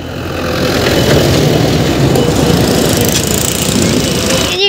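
Tractor trolleys loaded with sugarcane run in heavy traffic near a sugar mill, giving a loud, continuous rumbling engine roar that stays dense and close throughout.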